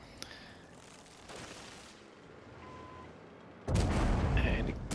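A tank cannon in a tank video game fires an HE round, a single heavy boom near the end after quieter engine rumble and faint earlier shots in the distance.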